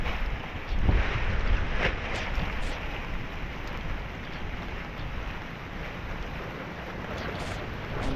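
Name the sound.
wind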